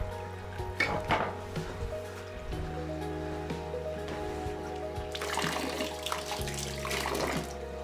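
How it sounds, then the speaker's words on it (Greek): A stone village spring in the mountain villages of Zagori, Greece, running steadily with cold water, a continuous close splashing and trickling that carries on alone with no talk. "σε κάθε χωριό θα δείτε και από μία πέτρινη πηγή"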